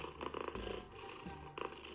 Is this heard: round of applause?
no